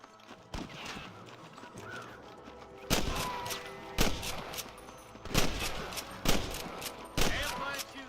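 Gunfire in the video game Red Dead Redemption: sharp, loud shots crack out at irregular intervals, several spaced a second or so apart, over horse hooves and ambient Western sounds, with no talk.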